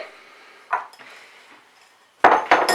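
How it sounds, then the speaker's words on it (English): Drained soaked cashews, two cups, tipped into a blender, heard as a brief clatter and rattle, a short lull, then a louder burst of hard nuts tumbling against the jar. "So that's 2 cups of cashews going in."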